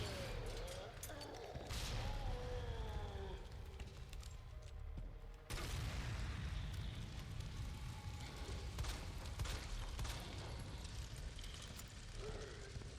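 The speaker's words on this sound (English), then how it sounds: "I want to feed him this grenade." Grenade blast in Resident Evil 2 (2019) during a boss fight, a burst of loud, dense noise that cuts in sharply mid-clip over continuous game sound, with a player talking.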